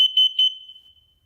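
A smoke detector beeps during its self-test: a steady piercing electronic tone with two louder pulses in the first half second, then fading out alone over about a second.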